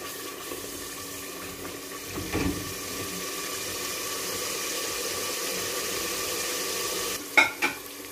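Beef kofta simmering in a pot of curry gives a steady soft sizzle and bubbling hiss, with a couple of brief utensil knocks near the end and no talking.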